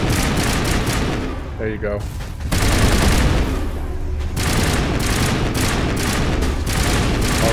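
Dense, loud gunfire in Mass Effect Legendary Edition, with overlapping volleys and booming shots going almost without pause. A person talks briefly over the shooting.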